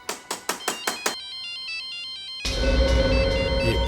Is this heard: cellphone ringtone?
yes